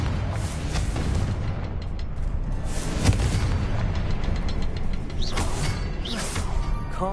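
A Confringo blasting spell explodes in Hogwarts Legacy, a loud, dense rumbling roar that holds steady for several seconds with a few sharper crackling bursts on top.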